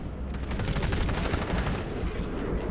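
Rapid automatic gunfire in the video game Titanfall, a dense continuous burst of loud close shots filling the whole stretch without pause.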